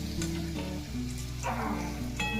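Mug puli, Bengali lentil dumplings, frying in hot oil with a steady soft sizzle over a constant low tonal hum, with no voices.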